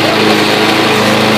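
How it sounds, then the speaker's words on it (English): A lawn mower engine runs steadily at close range, a loud continuous drone with a strong low hum, alone without any talk. "Redneck lawn mowing."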